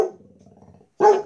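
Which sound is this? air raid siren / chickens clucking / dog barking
dog barking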